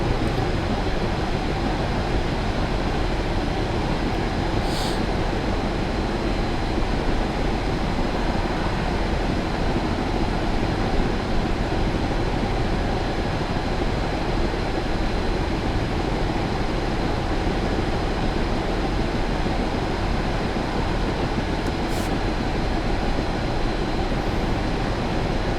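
Union Pacific GTEL gas turbine locomotive hauling a test train on Sherman Hill in Train Simulator, a constant broadband roaring whine that holds steady throughout with no talk.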